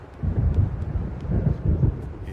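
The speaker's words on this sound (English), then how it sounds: "It seems there's a storm coming." Low rolling thunder from an approaching storm in the Alan Wake game rumbles close and loud in uneven swells, with faint wind and rain behind it and no speech.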